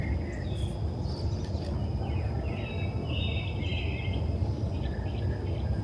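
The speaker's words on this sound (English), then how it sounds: "birds are chirping as usual." Birds chirping outdoors on a morning by a lawn, scattered high tweets and short calls over a steady broadband hiss of ambience, moderately loud and continuous, with no talk.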